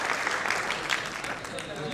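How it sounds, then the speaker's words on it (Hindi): Applause breaks out at a Hindi-Urdu poetry gathering (mehfil) in Indore, a dense wash of clapping from the audience after a couplet, with voices calling out praise over it for the whole stretch. "अरे तालियां होनी चाहिए इस खूबसूरत शेर के"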